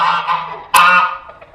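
Geese honking close by, two loud nasal calls, the second sharper and stronger, fading into quieter honks.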